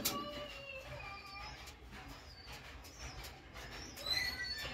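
Teddy pigeons cooing, soft low coos and faint chirps amid quiet background noise, fairly distant and gentle.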